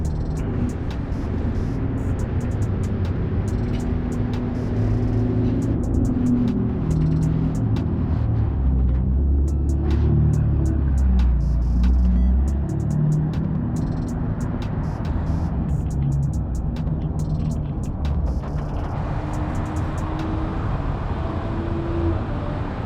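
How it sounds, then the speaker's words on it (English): Twin turbo V6 car engine giving a steady deep rumble from close by on a Chicago street, a low, continuous drone with slight swells throughout, no voices heard. "What is this? Twin turbo V6?"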